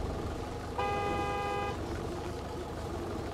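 A single car horn blares for about a second in Gas Station Simulator, sounding as a steady tone over a constant background hum with no talking.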